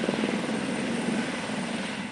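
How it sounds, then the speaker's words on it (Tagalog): A helicopter bringing a senator to a hospital gives a steady, close rotor thrum with rapid rhythmic blade chop that stays constant and loud for the whole stretch, with no voices. "Dumating kanina sa ospital sakay ng helicopter si Senator Amy Marcos"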